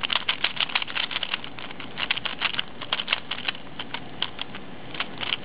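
A clicky Pyraminx puzzle is turned quickly, giving a continuous run of crisp plastic clicks and rattling snaps, close and moderately quiet.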